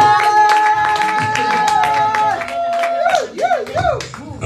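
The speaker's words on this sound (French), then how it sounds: "acclamer pour la gloire de Dieu" A church congregation claps during a French-language worship service, a run of quick, rhythmic hand claps mixed with sustained sung or hummed tones and a few voices, close and lively.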